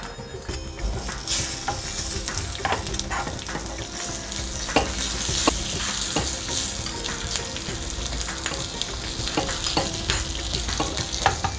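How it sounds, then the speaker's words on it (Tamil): Neem flowers and curry leaves frying in ghee: a steady loud sizzle and crackle with occasional sharp pops and a few utensil clinks from stirring. "வேப்பம்பூவை இந்த நெய்யில் போடலாம்"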